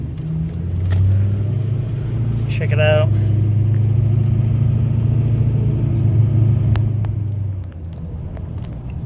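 Duramax LBZ diesel pickup with a fresh fuel filter rolling steadily around the block, a low, continuous engine rumble near the listener, with a person speaking briefly over it partway through.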